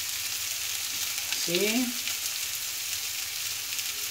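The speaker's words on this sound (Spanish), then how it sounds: "este aceitito que le quedó lo vamos a tirar por acá." Leftover oil poured into a hot disc pan where steak is cooking, giving a steady close sizzle with a brief rising pouring tone in the middle, while a voice speaks a single word.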